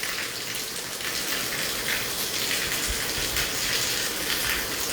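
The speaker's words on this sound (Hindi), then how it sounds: "तेज़ मूसलाधार बारिश अभी जो है वो यहाँ पर हो रही है" Steady heavy rain pours down in Hisar, Haryana, with a dense, hissing patter and occasional splashes, constant and fairly close, with no voices.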